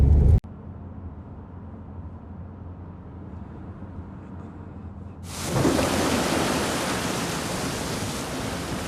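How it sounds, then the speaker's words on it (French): Heavy rain falling in northern France, a dense steady hiss that swells in abruptly after a quieter stretch with a faint low rumble, then continues loud and unbroken. "Et ça pleut."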